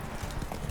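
Roach, Geralt's horse in The Witcher 3, trots with quick, close hoofbeats in a brief burst of clip-clop.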